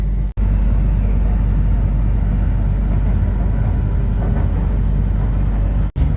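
Airport Rail Link train riding through Bangkok, heard from inside as a loud, steady low rumble and rolling roar, with two abrupt brief dropouts.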